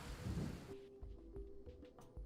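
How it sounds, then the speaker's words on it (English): Rain in Kainga: Seeds of Civilization, a broad wash of falling rain for the first moment that cuts off abruptly, leaving quieter low rumbles and scattered soft knocks. "You can see the rain destroying his weak houses, but also filling up his water barrel."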